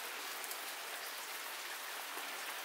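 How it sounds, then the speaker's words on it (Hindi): Steady, dense heavy rainfall hisses across a surface without pause in a village, a broad constant wash of drops with no voices. "अभी बारिश हो ही रही है, पूरे दिन बारिश हो रही है"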